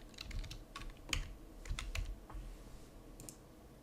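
Fingers type on a computer keyboard, tapping a quick, irregular run of close, quiet keystrokes before trailing off.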